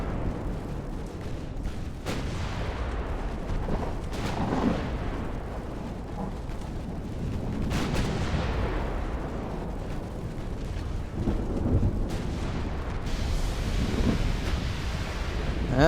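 A deep, rumbling torpedo detonation rolls against a ship amid a naval battle in Ultimate Admiral: Dreadnoughts, a long low roar with scattered distant booms and sea noise.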